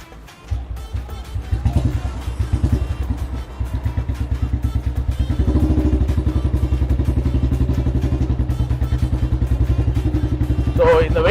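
Restored 1983-model vehicle engine running at a steady idle after being started, a loud continuous low rumble with a rhythmic pulsing beat that builds slightly partway through and holds throughout.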